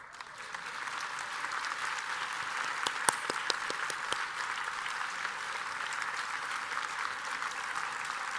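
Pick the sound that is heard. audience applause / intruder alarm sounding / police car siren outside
audience applause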